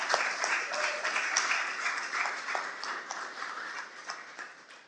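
Audience applause at a hearing dog teams graduation ceremony, a moderately loud, continuous patter of many hands with scattered sharper claps, easing slightly toward the end.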